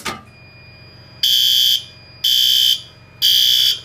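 Fire alarm horn sounding during a building emergency systems test: three loud, harsh blasts about half a second long, separated by short pauses, close and alone after a brief click at the start.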